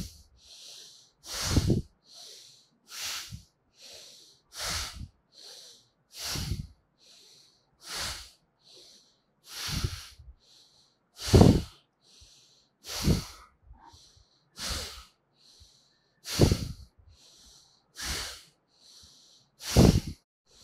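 Slow, deliberate breathing during a yoga stretching exercise, around a dozen audible breaths, each a close, airy hiss, spaced evenly at a calm rhythm with quiet gaps between them.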